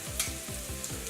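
Potatoes sizzle in hot oil in a pan, a steady close frying hiss with small pops and a faint rhythmic scrape of stirring. No voices.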